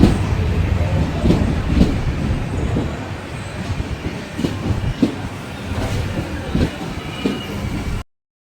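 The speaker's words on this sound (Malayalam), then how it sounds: "train number 1607 has arrived on platform number 1." Express train on a South Indian line pulling into platform 1 of a railway station, a loud rumble of rolling wagons with rhythmic clickety-clack wheel beats and station noise throughout.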